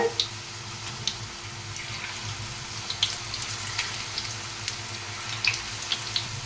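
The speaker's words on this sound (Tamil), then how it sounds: "ஆயிலில் வந்து போட்டாச்சு. ஒரு பக்கம் வந்து நல்லா ஃப்ரை ஆகட்டும்." An onion and potato evening snack fries in oil with a faint, steady bubbling hiss, broken by scattered soft pops and crackles, with a low hum underneath.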